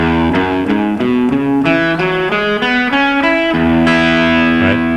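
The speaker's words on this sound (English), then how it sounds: "That's the sound of the major pentatonic." An electric guitar with distortion runs a major pentatonic scale in open position, one note after another in a steady rhythm, each note ringing clearly with no talking.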